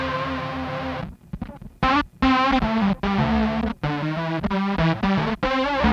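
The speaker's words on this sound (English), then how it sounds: "There's another mode on here that's this PWM, which is kind of a synth thing." An Alexander Color Theory effects pedal in its PWM synth mode, unsequenced, gives loud buzzy synth-like notes with wavering pulse-width tone, played in phrases broken by short gaps.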